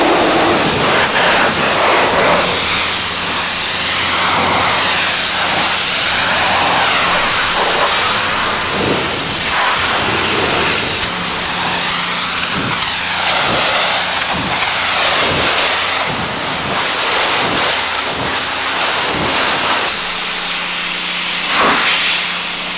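A pressure washer jet rinsing the polished chrome parts of a salt-crusted 1987 Peterbilt big rig, a loud, close, continuous hissing spray that swells and shifts as the wand sweeps across surfaces, with a low engine hum beneath.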